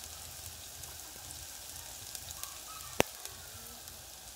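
Garlic and ginger sizzle in a hot pan for a Filipino frog stew, a faint steady frying crackle with a few sharp pops, heard without talk.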